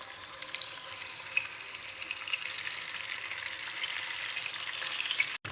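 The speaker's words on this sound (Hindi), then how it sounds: "जब ऑयल गर्म हो जाएगा तो ये जो कबाब है ये बीच में रखूँगी" Beef Bihari kababs fry in hot oil in a kadai, giving a steady, close sizzle that runs evenly throughout, with small crackles and no talking.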